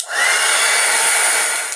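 A hair dryer blows with a steady, loud whoosh for a couple of seconds, close by, then cuts off.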